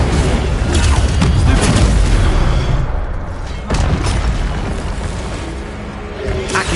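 Incendio fire spell cast in the video game Hogwarts Legacy, a loud roaring burst of fiery rumble and crackle that stays dense for several seconds with a second surge midway, no speech over it.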